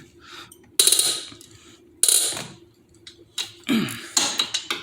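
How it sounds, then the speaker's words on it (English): A long ratchet works loose the head bolts on a Harley-Davidson engine, giving repeated bursts of sharp metallic clicking close up, with short pauses between strokes and quicker clicks near the end. "a longer ratchet would be beneficial"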